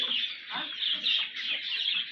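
Foreign-breed chickens clucking up close, a run of short, repeated clucks and murmurs at a steady rhythm with no voices.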